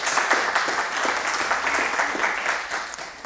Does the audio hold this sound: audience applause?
yes